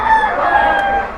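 A rooster crows at a cockfight in a packed room in Kentucky: one loud, close, sustained crow fills the short moment.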